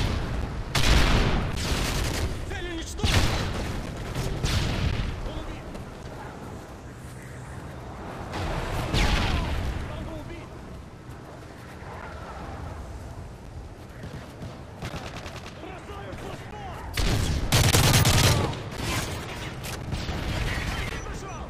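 Gunfire and explosions from a Predator missile strike in the Modern Warfare 3 video game, hardcore demolition mode on the Dome map, with loud bursts and booms recurring throughout under announcer voice lines.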